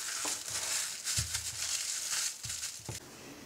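Plastic cling film crinkles and crackles as it is wrapped around chilled pastry dough for a pecan pie, with several brief rustling bursts and soft handling thumps close by, no talking.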